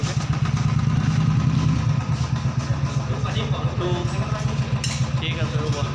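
A motorcycle engine idles nearby before a ride from Sikkim and Darjeeling, with a steady low throb, while people talk over it.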